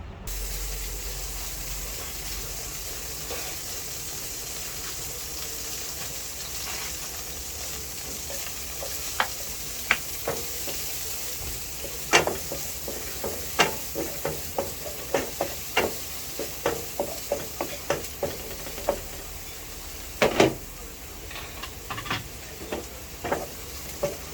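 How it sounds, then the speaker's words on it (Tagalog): Garlic sautéing in a home-kitchen pan gives a steady low sizzle, with a run of sharp utensil scrapes and taps against the pan growing more frequent partway through. "Magigisa na tayo."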